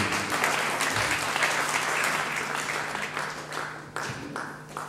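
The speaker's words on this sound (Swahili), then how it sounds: "wapigieni makofi mazuri" Audience at a tribute gathering for Esther Githithi's husband breaks into steady applause, a dense wash of many hands clapping that fades slightly toward the end.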